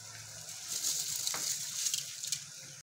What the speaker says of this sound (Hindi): पानी में बहुत अच्छे तरीके से बॉयल आ चुके हैं